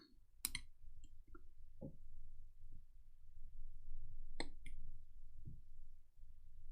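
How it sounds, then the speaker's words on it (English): A gadget being pried and levered apart by hand, a few sparse, sharp clicks and small snaps scattered over a quiet background, close and fairly faint. "I'm going to give this a little bit of levering now to see if it's going to flip out"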